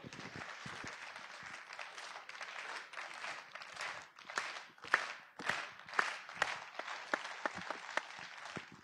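A small group claps in a rhythmic beat at a sports training session, starting as loose scattered clapping and settling into sharper, evenly spaced claps, fairly quiet and free of talk.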